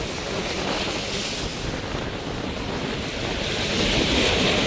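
Stormy sea waves surge and crash beneath a bridge in Jaffna, a loud continuous roar of churning surf mixed with heavy wind buffeting the microphone, swelling louder toward the end.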